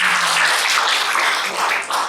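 A room of school staff and parents applauds at an education motivation event, a dense continuous wash of clapping lasting the whole moment, fairly loud and steady with no voices over it.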